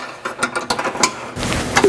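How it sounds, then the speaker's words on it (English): Two 9/16 wrenches tighten skid plate brackets on a Jeep JL Hemi 392 bellypan system, giving quick, close metallic ratcheting clicks in short bursts followed by a brief scraping of tool on metal. "Now we're using 2 9/16 wrenches and go ahead and tighten in all the brackets where they meet the skid"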